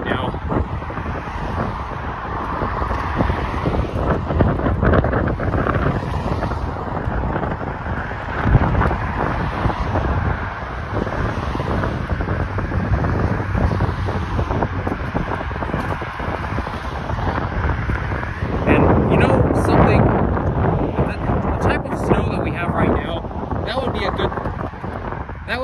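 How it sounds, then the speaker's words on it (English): Steady wind rushes and rumbles against the microphone throughout, with a voice speaking faintly underneath and a stronger gust near the end. "Whoa, it's a little windy right now."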